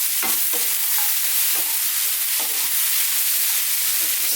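Cashews and mixed vegetables stir-fried in a hot pan give a steady sizzle, broken by sharp scrapes and knocks of the utensil tossing them at an irregular rhythm, close and fairly loud.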